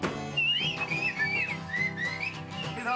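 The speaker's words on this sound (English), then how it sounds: "he whistles his little song." Someone whistles a short cheerful tune in a children's song, bright wavering melodic notes over a steady musical accompaniment.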